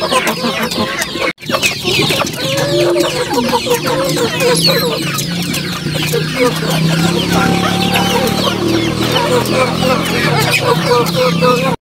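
A flock of farm chickens kept as gamefowl clucks busily while eating feed, close and continuous with overlapping calls, a rooster's crow now and then, and someone speaking over the flock.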